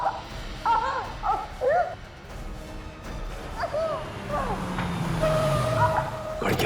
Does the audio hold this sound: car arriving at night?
yes